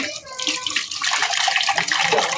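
Water runs steadily into a sink while dirty dishes are scrubbed with a sponge and soap, a continuous close splashing hiss with rising and falling strokes.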